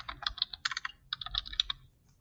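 Quick bursts of keystrokes on a computer keyboard in a quiet room, clicking in short irregular runs with brief pauses, close and fairly soft, no talking.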